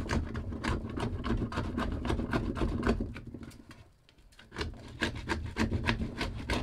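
A scraper rubbing dried spray paint off painting equipment in a fast, rhythmic rasp of repeated strokes, heard close and steady, pausing briefly in the middle before resuming.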